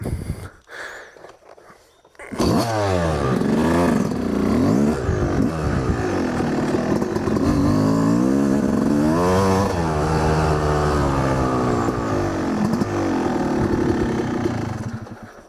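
A dirt bike engine runs close by, sputtering briefly before catching and settling into a loud, uneven idle with wavering pitch and occasional blips of revving throughout.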